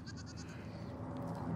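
Nigerian dwarf goats on southern Arizona rangeland bleat briefly at a distance, a few quick soft calls over steady outdoor background noise.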